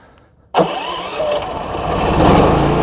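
A Westinghouse 4500 portable generator engine catches suddenly after a brief quiet moment, then keeps running with a steady, loud mechanical drone close by.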